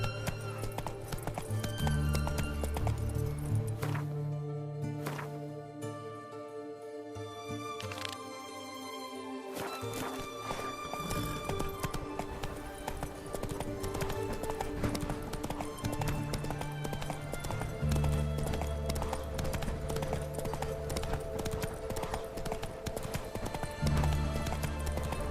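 Roach, a horse in The Witcher 3 video game, gallops with steady clip-clop hoofbeats and an occasional whinny, set against a continuous musical score that briefly thins out partway through.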